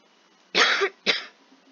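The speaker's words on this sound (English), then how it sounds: "This cough is making me mad." Two quick coughs close up, a harsh burst followed by a shorter one, in an otherwise quiet room.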